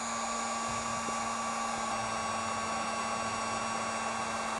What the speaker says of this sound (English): now I'm gonna use the heat gun